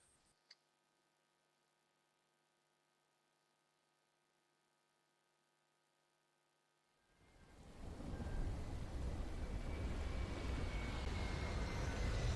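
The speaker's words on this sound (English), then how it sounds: "Man, that plane gone." An airplane in the shooter game Bright Memory: Infinite roars in after several seconds of near-silent hum, swelling into a loud, broad rushing drone that holds to the end.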